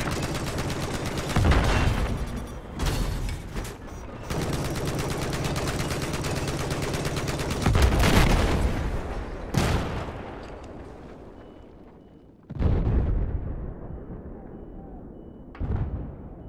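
Heavy automatic gunfire in Battlefield 4 rattles in long sustained bursts with shorter blasts between, loud and close, cutting off abruptly near the end before a few final bursts.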